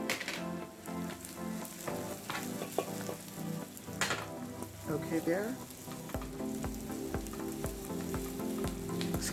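Garlic sizzling as it is added to onions frying in a pan, a steady crackling hiss with scattered pops and stirring scrapes, close and continuous, with a brief spoken remark and some city noise in the background.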